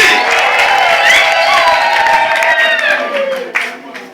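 A wedding ceremony crowd breaks into warm applause mixed with cheers and whoops, loud and sustained before tapering off near the end, with voices mingling through the clapping.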